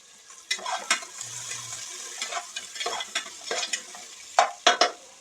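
Onions fry to a brownish colour over a medium flame in a pan for mushroom biryani, with repeated scraping stirs and a soft sizzle beneath them, and a few louder strokes close together near the end; no voices.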